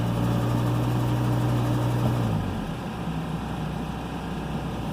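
A Ford F450 pickup with a V10 engine runs under brake torque, a loud low steady drone that holds for about two seconds and then drops back to a calmer idle rumble, close by, with no talk.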